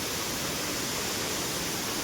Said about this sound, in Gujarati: જો કેટલું પાણી પડે છે